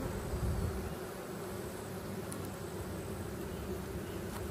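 Honey bees buzz steadily and densely inside an open ten-frame hive box during an inspection, a close, continuous drone with no speech.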